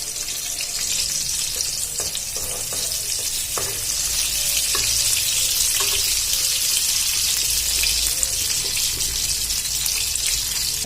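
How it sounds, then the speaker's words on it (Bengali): Cashews and raisins frying in a pan for chana dal, a steady loud sizzle throughout with occasional stirring scrapes and clinks, no talking. "আমি এখানে কাজু আর কিশমিশটা ভেজে নেব।"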